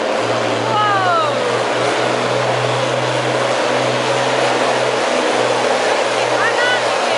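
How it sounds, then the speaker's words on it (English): A pulling tractor's engine roars loud and steady throughout a tractor pulling event, with crowd noise and excited voices over it. "Listen to that engine roar."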